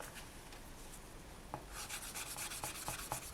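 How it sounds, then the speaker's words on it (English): 600-grit polishing paper rubs back and forth over the metal-leafed edges of a faux dichroic polymer clay pendant. The close, quiet scratchy strokes speed up into a rapid rhythmic scrub, with no talking. "And you just need to go over the edges and back and just sand off that metal leaf"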